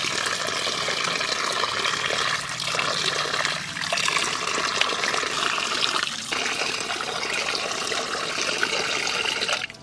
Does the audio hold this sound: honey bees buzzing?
no